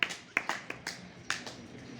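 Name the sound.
students clapping for prize winner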